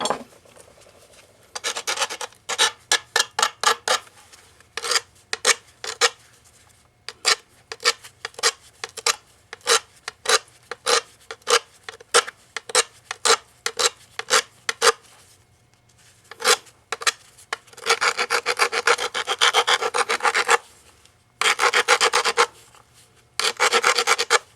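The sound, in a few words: sharpening a knapped stone point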